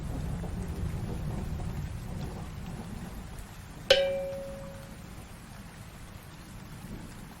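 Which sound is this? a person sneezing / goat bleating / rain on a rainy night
rain on a rainy night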